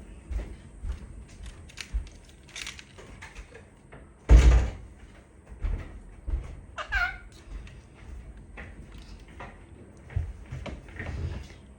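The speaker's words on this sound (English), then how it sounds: "I must shut the door." A door is shut with one solid thud midway through, amid quiet room noise and small scattered knocks and movements.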